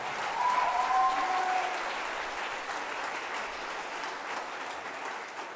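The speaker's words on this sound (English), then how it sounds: "a round of applause" Audience applauding after a school choir concert, a broad sustained patter of many hands that starts loud and slowly thins, with a brief whistle near the start.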